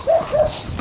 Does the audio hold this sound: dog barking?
yes